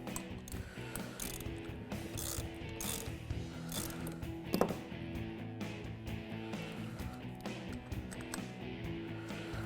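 Ratchet clicks ring out in quick repeated bursts as bolts are snugged on a Jeep Wrangler light bar bracket, close and fairly quiet with brief pauses between strokes.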